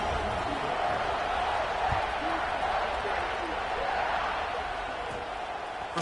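An NCAA College Football 25 stadium crowd gives a broad, steady roar throughout, with faint scattered claps and thumps, under a play-by-play commentator talking.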